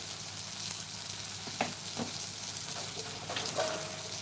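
Potatoes sauté in a pan over a low flame for sukat batata rassa, giving a soft, steady sizzle with a couple of faint spatula scrapes and no talking.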